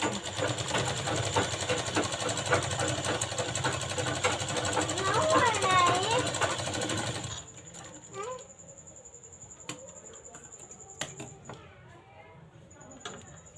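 Sewing machine running steadily as it double-stitches a katori blouse, a loud continuous mechanical whirr for about seven seconds, then stopping and leaving quieter handling noises with a voice speaking.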